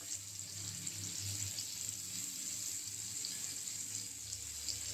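Soya chunks fry in oil in a pan, giving a steady, quiet sizzling hiss that continues evenly throughout.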